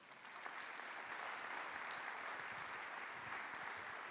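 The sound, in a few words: applause in church service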